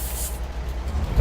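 A truck's handbrake releases with a low pneumatic hiss of air in the Alaskan Road Truckers video game, a steady rumbling burst under an idling engine, fairly close and moderately loud.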